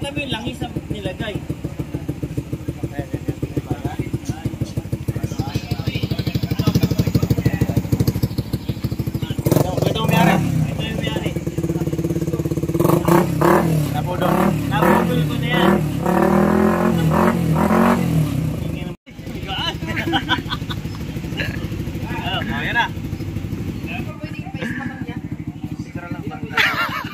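An underbone motorcycle running in an endurance race drones through a long stretch, its engine rising and revving louder in the middle before settling back, with people talking over the noise.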